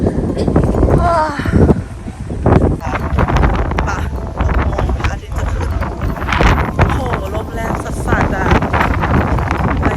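Strong, gusty wind blasting against the microphone on a mountain trail at Khao San Nok Wua in Kanchanaburi, loud and constant, with people talking throughout.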